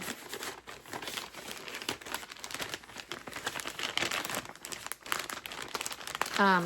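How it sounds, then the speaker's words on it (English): Plastic or packaging crinkles continuously close to the microphone in a crackly, irregular stream, with a brief higher squeak near the end and no talking. "sorry about the crinkling"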